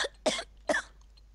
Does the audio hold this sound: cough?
yes